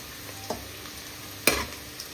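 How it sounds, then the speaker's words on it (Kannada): Onions sizzling in a pan of ghee for chicken ghee roast, a soft steady fry broken by two stirring scrapes, the second louder, with no voices. "ಈರುಳ್ಳಿ ಫ್ರೈ ಆಗಿದೆ."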